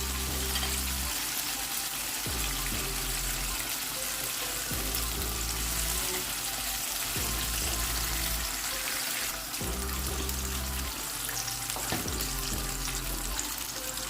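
Fish frying in a pan gives a loud, continuous, hissing sizzle throughout, with a low hum underneath that switches on and off at intervals; no one speaks.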